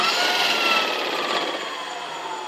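An electric motorbike's motor runs with the throttle turned, giving a steady, dense whirring whine that holds nearly constant and close for a couple of seconds.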